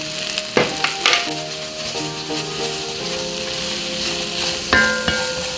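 Carrots and onion fry in beef fat in a pot with a steady close sizzle, broken by a few stirring scrapes and clanks of the utensil, and no voices.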